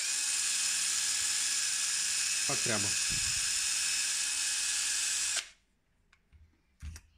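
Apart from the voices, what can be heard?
electric drill polishing with felt pad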